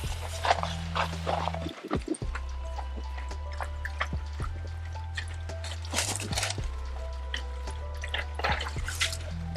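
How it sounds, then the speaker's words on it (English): Water drains from disconnected above-ground pool hoses with steady dripping and trickling close by, under a low constant hum and a few sharp handling knocks. "All the disconnections, pull the hoses apart, let them drain."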